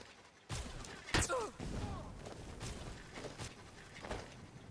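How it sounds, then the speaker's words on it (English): An enemy in Skyrim casts ice spike spells, several sharp crashing impacts and whooshes in quick succession, loud and close, with game combat noise between them. "Look at him shooting the little icicles at me."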